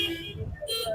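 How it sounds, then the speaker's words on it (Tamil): Vehicle horns honking at the busy Pallavaram market, two short toots near the start and end with a lower engine rumble underneath, fairly close and brief. "ஹார்ன் அடிச்சு டார்ச்சர் பண்ணுறாங்க."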